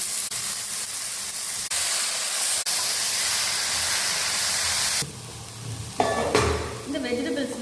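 Brinjal and other chopped vegetables go into a hot pot for sambar, giving a loud, steady sizzling hiss that drops away into quieter stirring and clatter.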